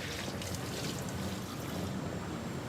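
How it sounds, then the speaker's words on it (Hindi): A pot of water comes to a boil indoors, giving a steady, broad bubbling hiss with faint gurgles and no voices, holding at a moderate level throughout. "ये बॉयल हो रहा है सही वाला पानी।"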